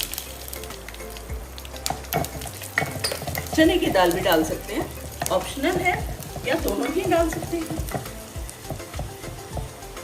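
Curry leaves and mustard seeds crackle and sizzle in hot oil, with spoon stirring and pan clinks, while someone talks over it.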